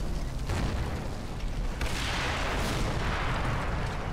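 Video game mortar fire, with an exchange of shots, comes as a steady low rumble of distant booms and bursts, with several sharper impacts rising out of the constant battlefield din.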